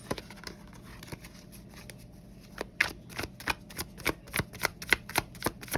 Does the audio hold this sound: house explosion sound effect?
no